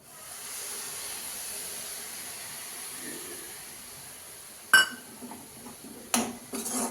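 Milk added to grated carrot frying in a pan for carrot halwa: a sustained soft hiss and sizzle, then a few sharp metallic clanks of a utensil against the pan near the end.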